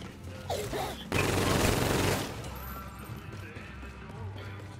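A burst of gunfire in Call of Duty Infinite Warfare Zombies, a dense, loud volley of shots lasting about a second, followed by quieter game ambience.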